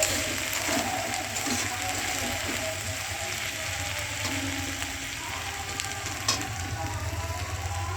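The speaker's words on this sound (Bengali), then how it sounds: "রসুনটা একটু ভাজা ভাজা হয়ে গেলে" Garlic paste sizzles in a pan with occasional scraping and stirring clicks, a steady frying crackle throughout.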